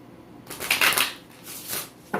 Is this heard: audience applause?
no